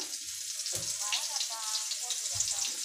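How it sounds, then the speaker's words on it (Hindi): Bombay duck (bombil) fish frying in a pan, a steady close crackling sizzle throughout, with a voice heard briefly over it. "बोंबील फ्राय होत आहेत, बोंबील फ्राय"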